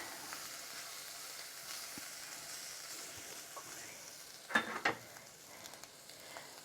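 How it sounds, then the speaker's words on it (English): Curry powder toasting in a pan makes a quiet, even sizzle, broken by a couple of brief louder clinks of stirring partway through. "put the curry powder in there to toast"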